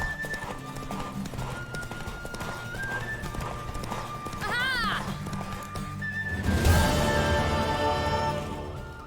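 Rapid hoofbeats of a horse galloping in The Witcher III, a quick clip-clop rhythm with a loud neigh near the end, under background game music and occasional talk.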